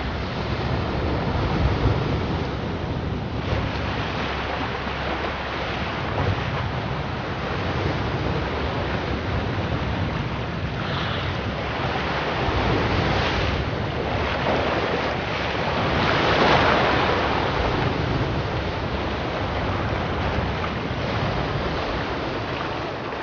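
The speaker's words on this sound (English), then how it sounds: "The turbulent water, supercharged by the highest tide of the year, is now on a direct course to Oronsay and the seal family." Turbulent sea water surges at the year's highest tide near Oronsay, a continuous loud roar of waves and surf mixed with gusting wind buffeting the microphone.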